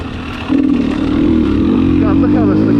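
A 2020 KTM 300 XC-W TPI two-stroke dirt bike engine revs hard in third gear while ripping through trail terrain, a loud, steady, close buzzing drone that jumps up in intensity after a brief quieter start.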